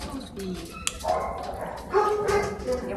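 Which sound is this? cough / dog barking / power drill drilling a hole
dog barking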